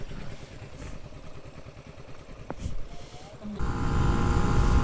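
A 125cc motorcycle engine drones steadily while riding through Wales, mixed with wind rush, and swells louder near the end as it labors up a hill.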